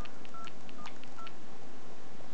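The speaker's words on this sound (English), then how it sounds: "let's see what happens when we dial a number" A 1994 Motorola Pulsar DynaTAC cell phone dialing a number, a quick sequence of short keypad tones beeping in irregular rhythm over steady background hiss, close and moderately faint, with no talking.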